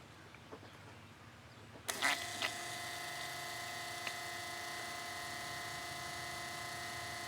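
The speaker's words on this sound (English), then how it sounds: "show you what the fuel pump sounds like when you turn the key on" A faint click, then a steady electric whine and hum of a 7.3 Power Stroke diesel's fuel pump running after the key turns on, constant and fairly quiet, on a truck with a no-start problem.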